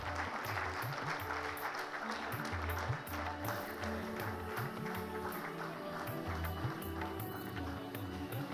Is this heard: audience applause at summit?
yes